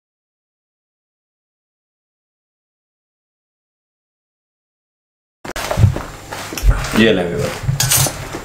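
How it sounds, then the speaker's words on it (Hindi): Green chillies being mixed with salt and ground turmeric: after a long stretch of silence, a spoon clatters and scrapes against the dish for a few seconds, close and fairly loud, with a brief spoken word. "हल्दी पिसी हुई 1 टेबल स्पून भर के इसके अंदर शामिल कर दें और इसको अच्छे तरीके से मिक्स कर लें।"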